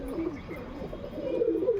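A female pigeon gives a low, throaty coo, a brief continuous rolling murmur heard close up.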